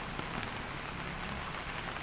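Steady rain falls on surfaces around a flooded house, a dense, even hiss with scattered drops tapping throughout and no voices.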